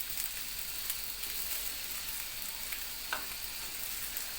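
Soft sizzling of rice frying in butter, with occasional scraping stirs of a spoon against the pot, quiet and close.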